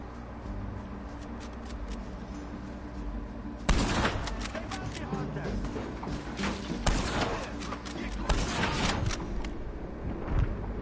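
Gunfire in the Red Dead Redemption 2 video game: a sharp volley of close, loud shots breaks out after a tense rumbling lull, followed by scattered repeated bangs and thuds over the game's ambient background.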